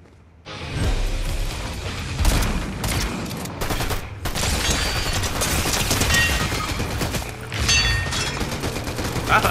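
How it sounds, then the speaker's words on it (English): Gunfire in a Fortnite trios match rattles out in bursts of rapid shots, loud and close, with repeated volleys and mechanical clatter over several seconds. "Oh, somebody just shot me in the back."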